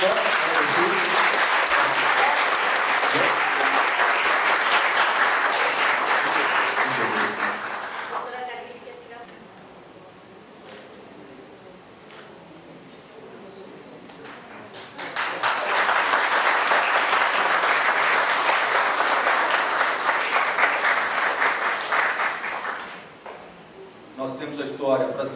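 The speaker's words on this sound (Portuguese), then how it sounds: "Un fuerte otro aplauso voy a pedir" Audience at a polio conference breaking into loud, full applause, which drops to a quieter lull with murmuring in the middle before a second strong burst of clapping, then a brief tail of claps at the end.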